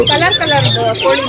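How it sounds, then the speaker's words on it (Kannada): Birds call in a pet display alongside parrots and rabbits, giving bright, quick chirps and warbles up close that overlap in a steady burst with no gaps. "ಬರೀ ಪಕ್ಷಿಗಳು, ಬರ್ಡ್ಸು"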